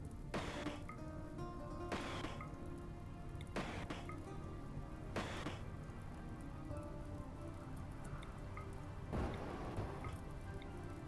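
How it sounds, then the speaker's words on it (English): Rain falls in the video game Rimworld, a soft continuous patter with a few brief louder surges of water at regular intervals. "It's raining in the fucking desert."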